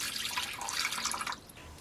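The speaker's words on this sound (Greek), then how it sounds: "θα τη σκεπάσουμε με νερό, το νερό να τη σκεπάζει καλά" Water splashes and trickles as it is poured into a cooking pot over a beef tongue, a soft, close liquid gush lasting just over a second before stopping.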